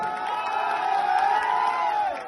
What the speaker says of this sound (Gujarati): એકવાર તાળીઓથી વધારો સાહેબ